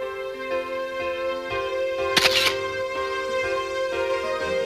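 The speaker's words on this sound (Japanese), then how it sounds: "今日はやけにシャッターが重いぜ。" A camera shutter clicks several times at spaced intervals, sharp and close, set against a soft sustained musical backdrop.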